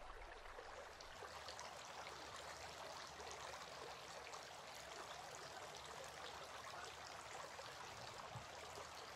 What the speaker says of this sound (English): Then he sniffed water into his nostrils using his right hand and blew out using his left hand 3 times.